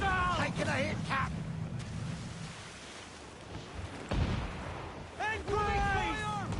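Heavy ship cannon fire rumbles through a naval battle in Assassin's Creed 4 Black Flag, with dense booming volleys and crew voices shouting over the loud, continuous din.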